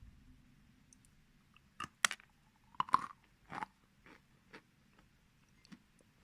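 Pieces of edible kaolin clay are bitten and chewed up close in a quiet room, giving a few sharp, light crunches followed by softer, sparse chewing clicks.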